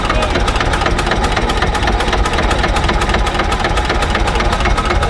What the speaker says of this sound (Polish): udało nam się przyjść, kiedy Deutz pracuje